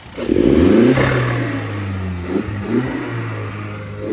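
A car engine fitted with a new full air induction kit revs up sharply, then settles into a throaty idle with a few smaller blips, close and loud, with no talking.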